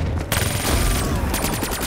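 AK-47 gunfire in a Mario Zombies video game, loud rapid bursts of automatic shots crackling up close in quick succession throughout.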